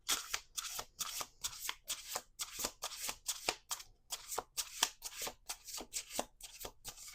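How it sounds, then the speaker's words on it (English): A deck of tarot cards is shuffled close by in a quick run of crisp riffling bursts, each a short papery flutter, repeating in a steady rhythm with brief gaps and no speech. "Okay, we're doing one more shuffle."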